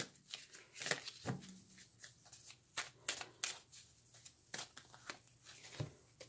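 A deck of chakra cards is shuffled close by in quiet, papery riffles and slides, short irregular bursts with soft pauses between them and no talking.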